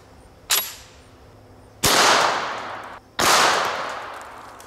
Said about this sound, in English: This is my chrome Tommy gun made by Auto Ordnance.